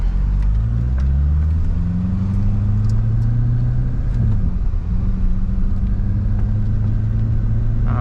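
A rebuilt C6 Corvette on a street test drive, its engine rumbling loud and close with a steady low drone that rises and falls slightly as it pulls through a neighborhood.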